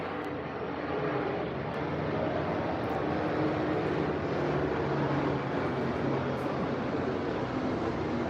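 An airplane coming in to land passes overhead outdoors, a steady, loud, broad roar that holds without pause for several seconds, with no voices over it.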